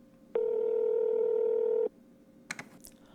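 A phone's steady electronic dialing tone holds for about a second and a half, then cuts off. A few faint clicks follow in a quiet room.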